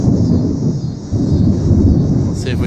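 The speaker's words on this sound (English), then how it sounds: "Definitely hear the thunder." Thunder from a St. Louis, Missouri thunderstorm rolls as a deep, continuous rumble, loud and steady with no rain, and a brief higher chirp near the end.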